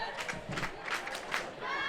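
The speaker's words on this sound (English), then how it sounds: "The crowd is getting into it, screaming for Q." Fans at a women's ultimate frisbee final, Traffic against QUB, scream and cheer in rhythmic bursts, a rowdy crowd heard at moderate distance and fairly quiet overall.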